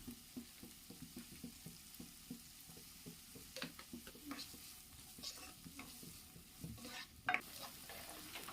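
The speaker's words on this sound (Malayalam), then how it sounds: "എന്നിട്ട് നമുക്കൊന്ന് വഴറ്റിയെടുക്കാം." Ginger and onions fry with salt in a pan for mutter paneer masala, giving a quiet, continuous sizzle broken by soft spoon scrapes and one sharper clink near the end.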